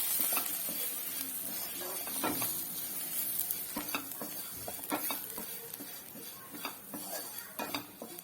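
Coriander powder and turmeric fry in a pan for a Kerala-style crab roast while a spoon stirs them, giving a steady close sizzle broken by repeated metallic scrapes and clinks against the pan.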